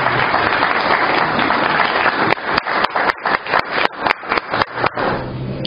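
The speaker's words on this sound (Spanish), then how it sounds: "Démosle ese fuerte aplauso de bienvenida." A church congregation gives a welcoming round of applause, first a dense continuous wash of clapping, then a run of about a dozen sharp, evenly spaced rhythmic claps that stop abruptly.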